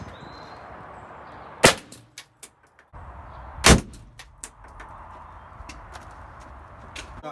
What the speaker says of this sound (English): that is when a curtain airbag deploys